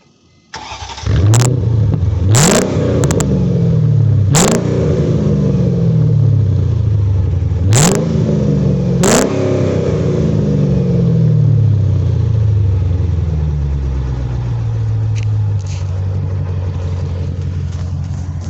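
A 2004 Chrysler Crossfire fitted with a Mercedes M113 V8 starts up and revs hard several times in quick succession, each rev rising and falling before settling into a loud, close, rumbling idle.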